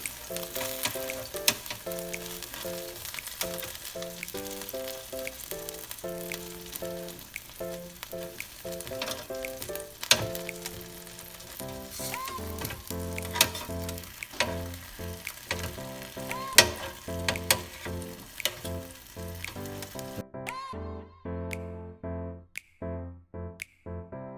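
Habanero chicken wings fry and are flipped in a pan, with steady close sizzling and scattered clicks and knocks as pieces are turned, while music plays throughout.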